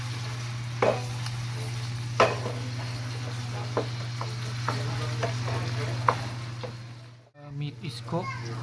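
Ground beef browning in a pan for ginisang sayote, a steady sizzle with occasional scrapes and clinks of a utensil stirring, near and moderately loud, with a brief pause before stirring resumes.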